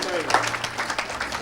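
A church congregation claps and cheers in praise during a worship service, a continuous wash of applause with voices mixed in throughout the brief moment.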